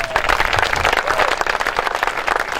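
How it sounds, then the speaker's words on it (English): Audience applause at a community gathering as a softball coach is introduced, dense steady clapping from a crowd filling the moment, fairly loud and close with no talk over it. "Please give them a round of applause each time I introduce them."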